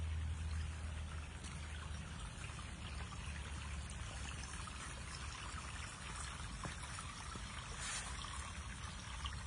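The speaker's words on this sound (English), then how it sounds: "It's a waterfall." A garden pond waterfall pours and trickles in a continuous, soft splashing stream, close and steady with a low rumble underneath and no talking.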